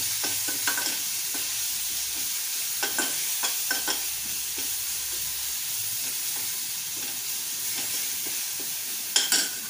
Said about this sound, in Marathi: थोडं परतून घेऊया